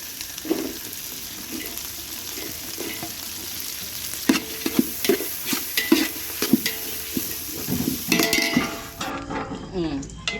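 Onions and ground chili paste frying in oil for biryani, with a steady close sizzle broken by repeated scraping and clanking stirs of a metal spoon against the pot, growing busier toward the end.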